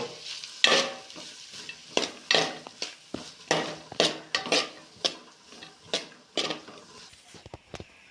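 Chopped tomatoes and two green chilies sautéing in oil with onions for butter chicken, a soft frying sizzle broken by repeated sharp scrapes and clinks of a spoon stirring against the pan, close and fairly quiet.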